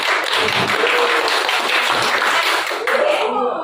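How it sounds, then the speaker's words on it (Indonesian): A high-school class in a guidance session claps together, a dense, steady wash of many hands close by, running the full length and thinning slightly near the end. "tepuk tangan untuk kita semua"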